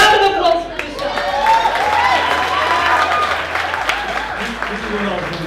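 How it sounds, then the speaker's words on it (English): A concert audience gives a round of applause for a participant, a full burst of clapping mixed with scattered cheers and voices, holding steady for several seconds. "A round of applause for Michelle"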